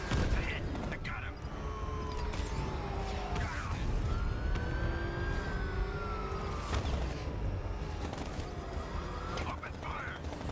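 Gunfire in a Batman: Arkham Knight chase, with rapid bursts and impacts over a steady engine drone, sliding siren-like tones and game voices throughout.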